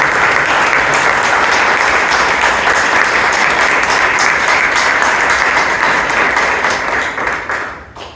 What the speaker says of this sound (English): Let's give a loud applause to